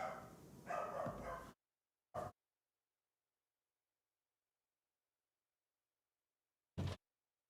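Dogs bark in a short burst, then two isolated single barks follow several seconds apart with silence between, heard at moderate distance and with no talking.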